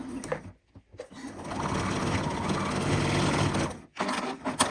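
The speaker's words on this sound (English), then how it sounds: "when I get to the next line, I'll just stitch off the edge." A sewing machine runs in one sustained burst of rapid, even stitching while sewing a scrunchie wristlet key chain, with short stops and handling noises at the start and end.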